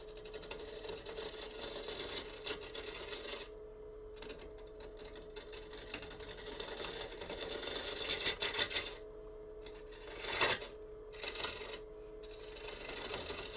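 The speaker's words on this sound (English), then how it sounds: "Got a little ticking noise. I think it's because the tailstock was not secured." A woodturning lathe with an unsecured tailstock spins a winged bowl, giving off a steady mechanical whir with a light ticking running through it, plus scraping bursts and a few brief clacks, with no talk.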